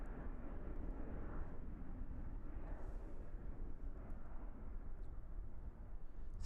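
A Jetstar airliner at Christchurch Airport, New Zealand, produces a steady, faint, distant broadband rumble of jet engines. The rumble holds throughout with no talk over it.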